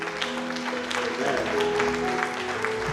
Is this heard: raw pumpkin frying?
no